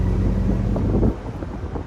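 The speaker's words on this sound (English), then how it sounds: "The most thing that I'm hearing right now is just the wind noise coming from with the top not being up" Heavy wind buffets the microphone inside a Ford Mustang convertible cruising with the top down, a loud rushing roar that drops somewhat partway through and continues more softly.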